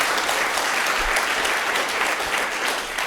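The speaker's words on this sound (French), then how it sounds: "on applaudit bien fort Bernard Castin" A live radio studio audience on a French comedy show breaks into dense, loud applause, an even wash of many hands clapping throughout the short stretch.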